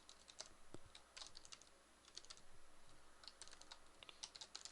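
Quick clattering keystrokes on a computer keyboard while writing code, irregular bursts of light clicks with short pauses between them, close and fairly quiet, with no talking.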